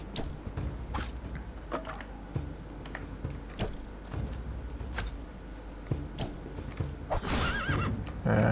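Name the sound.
horse neighing in video game Two Worlds 2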